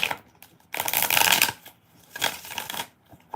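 Tarot cards being shuffled by hand, two bursts of riffling, the first longer and louder, the second shorter, with brief quiet between.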